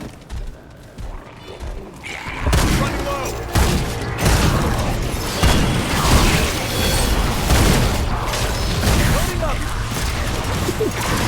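Exploding axe blasts booming and crashing in Remnant 2 gameplay, a dense run of loud heavy impacts and bursts from about two seconds on, with game mechanisms clattering and speech mixed in.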